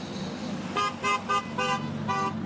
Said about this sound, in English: we've got people honking their horns as they drive by,